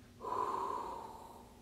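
A voice imitates asthmatic breathing for an EMT respiratory emergency lesson, with one quick sharp inhale followed by a long, drawn-out exhale that slowly fades, heard close and alone.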